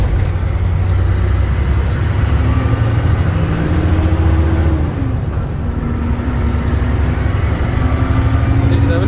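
A 2004 Freightliner Century truck runs up close with a steady, loud low engine drone and a long hiss of air, faint talk mixed in.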